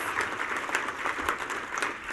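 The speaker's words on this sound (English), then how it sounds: "You can applaud that." An audience claps in a broad, even patter of many hands, fairly loud and continuous throughout with no talk.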